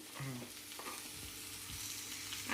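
Cluster beans and potatoes sauté in hot oil in a pan, a continuous close sizzle broken by the scrape and clatter of a spoon stirring, with a faint voice in the background.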